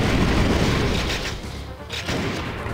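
Gunfire from The House of the Dead 2 & 3 Return, with booming shots close and loud in dense, overlapping bursts that run nonstop under the game's noise.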